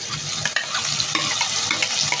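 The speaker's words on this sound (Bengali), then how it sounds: "পেঁয়াজগুলো ভালো করে লাল লাল করে ভেজে নিতে হবে" Sliced onions frying in hot oil with ginger-garlic paste, cumin paste and garam masala paste, a loud steady sizzle broken by scraping stirs and clicks of a spatula against the pan, close and continuous, no voices.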